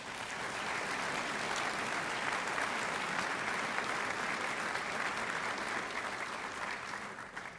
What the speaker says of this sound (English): How about a round of applause for the Kennedys?